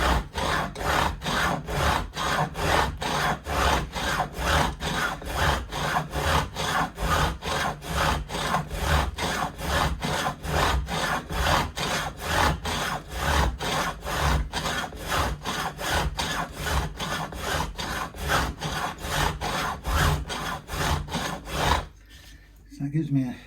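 Metal file rasping a bevel onto guitar fret ends during a Telecaster-style refret, steady rhythmic back-and-forth strokes, close and continuous for over twenty seconds before stopping abruptly.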